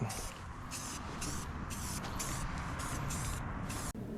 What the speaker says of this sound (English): Misting it on, and then we'll lay it on thick the next coat.